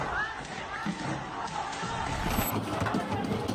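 Angry crowd storming the US consulate in Karachi, a dense continuous roar of many voices with scattered shouts and thuds, steady and loud throughout.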